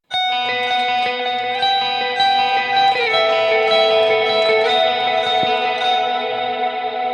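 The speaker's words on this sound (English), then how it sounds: "for the cleans, you've got that really cool washed out verb." Clean electric guitar chords ring out in a wide wash of reverb and shimmering echo, notes blurring together, steady and spacious.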